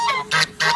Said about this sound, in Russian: Это гуси.